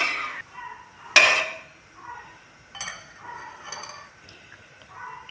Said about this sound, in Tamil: அடி பிடிக்கும், அதனால் நீங்கள் இந்த மாதிரி கிளறிட்டே இருங்க